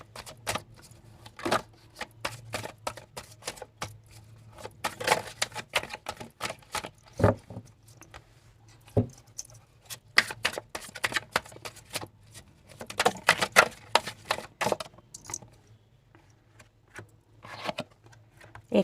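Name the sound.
drawing oracle cards from a deck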